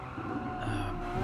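A race car in Gran Turismo 7 brakes hard for a corner, its engine roar dropping while the tyres scrub and squeal, loud and continuous throughout.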